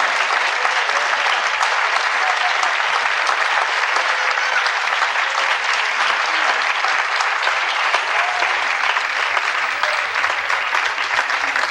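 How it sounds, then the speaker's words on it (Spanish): A church congregation applauds steadily, a dense, even wash of many hands clapping for several seconds without pause, fairly loud and with no clear voices over it. "Un aplauso al Rey con todo su corazón"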